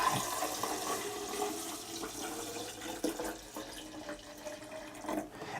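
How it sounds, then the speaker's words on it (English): Photo developer is poured into a beaker over a darkroom sink, a soft, uneven splash and trickle of liquid with a few louder pours, fairly quiet and close, with no voices. "I'm going to go ahead and pour developer in there."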